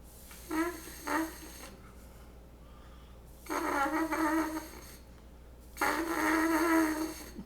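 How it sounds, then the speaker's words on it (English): Soft, breathy buzzing tones from a horn mouthpiece, three separate airy notes with pauses of near silence between them. "This is more like breathing the horn and just letting a tiny little sound come out."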